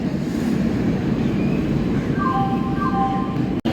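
The Swarnajayanti superfast express rumbles along at speed, a steady loud roar of wheels and carriage noise heard from onboard, with faint tonal squeals near the end and a sharp click just before it cuts.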